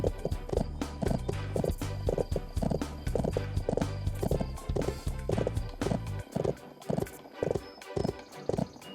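Horse hooves clip-clop in a video game, a quick, uneven run of close thuds with a neigh partway through, and the rhythm breaks up near the end.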